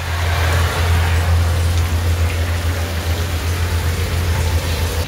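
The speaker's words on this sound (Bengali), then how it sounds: "এত পরিমাণে বৃষ্টি আর এত পরিমাণে বিদ্যুৎ চমকাচ্ছে, গাড়ি সব সাইড করতেছে" Heavy rain pours steadily on a road during a lightning storm, a loud continuous wash of drops with a deep rumble of vehicles in the background throughout, no voices.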